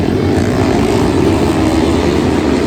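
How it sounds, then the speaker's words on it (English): A flat track racing motorcycle at full throttle during a Super Hooligan event, a loud, steady, droning engine roar holding constant throughout. "Here comes the 44, undeterred, fistful of throttle."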